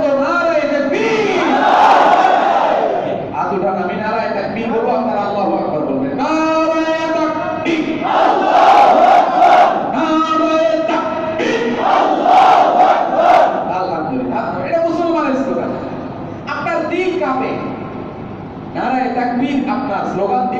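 A crowd at a Bangla Islamic religious gathering chants the Nara-e-Takbir slogan, a massed chorus of voices rising and falling in repeated loud swells over about twenty seconds.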